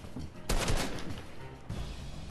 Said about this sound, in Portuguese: Eu tô indo aí de sniper, tentar acertar ele de sniper.